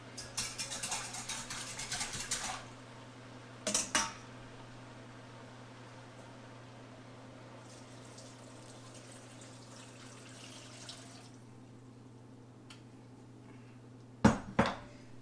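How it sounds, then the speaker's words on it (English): Diced potato and broth are added to a pot for leek soup in a home kitchen, with a rushing pour at the start and brief clanks of utensils against the pot. A faint steady hum runs underneath. "You just add your potato and your broth"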